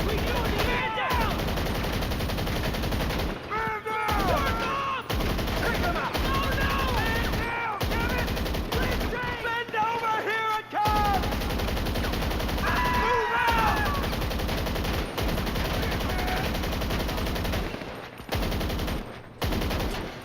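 Gunfire rattles in GTA 5 Online as a magazine is emptied, with loud, rapid bursts of automatic shots coming one after another and short pauses between the volleys.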